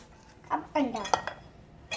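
Boiled potatoes and egg mashed by hand in a bowl: a few short squishy presses and scrapes with light clinks of the bowl, close and quiet, with a voice talking in the background.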